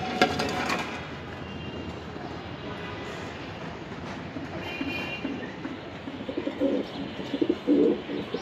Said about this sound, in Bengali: এই এক পেয়ার কবুতর